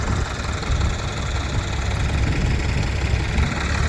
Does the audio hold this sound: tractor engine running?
yes